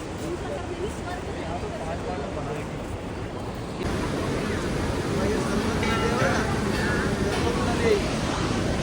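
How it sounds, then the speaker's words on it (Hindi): The Saraswati river at its source near Mana village above Badrinath, rushing water heard as a steady, broad roar close by that swells slightly partway through, with wind buffeting the microphone throughout. "तो ये है एक सरस्वती नदी"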